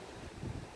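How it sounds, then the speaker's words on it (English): Wind buffets a microphone outdoors, producing a steady low rumble with a few stronger gusts, faint and continuous with no voices. "It's really windy out here."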